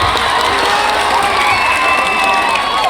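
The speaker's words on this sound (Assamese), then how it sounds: "তাৰ কাৰণে এটা হাত চাপৰি দিয়কচোন" Crowd at a Rongali Bihu festival gathering cheering and clapping, a dense continuous roar of voices and applause throughout, loud and close.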